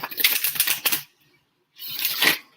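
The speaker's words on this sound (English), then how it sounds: "Now let's see how they shuffle. You know me, I'm always the riffle shuffler." Thick, bendy, flexible oracle cards are riffle shuffled in two quick bursts of crisp rapid flutter, separated by a short silent pause.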